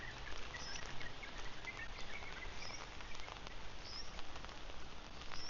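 Steady rain falls during a rainy morning walk in Phuket, Thailand, a dense continuous patter of drops on surfaces, fairly even and close, with faint chirps now and then.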